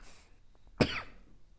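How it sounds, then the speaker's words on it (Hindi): A single sharp cough bursts out in a quiet room, preceded by a faint breath. "मुझे बहुत खांसी हो रही है"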